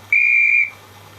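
A toy whistle gives one clear, shrill steady blast lasting about half a second, loud and close, then stops over a faint low hum.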